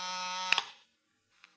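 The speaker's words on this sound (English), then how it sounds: "It was time for the buzzer on my desk to sound out the call" A desk buzzer in a radio drama sounds one steady electric buzz of just under a second, clicks off, and a faint click follows a moment later in quiet.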